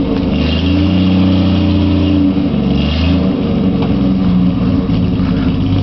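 A 1955 Ford Vanette engine runs loudly and close up, a steady low rumble with slight rises in revs, alone without talk.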